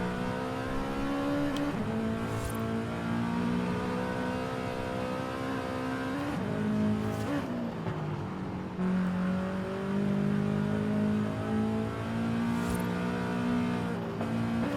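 A Toyota GR86 race car in Forza Horizon 5 revs hard and loud throughout, its engine rising through the gears with a few shift dips and a touch of tire squeal, and nobody talks over it.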